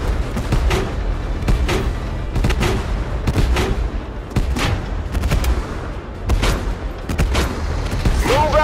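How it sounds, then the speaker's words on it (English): Video game gunfire in an intense firefight, dense volleys of sharp shots and booming blasts repeating steadily throughout, loud and close, with no voices. "We're under fire!"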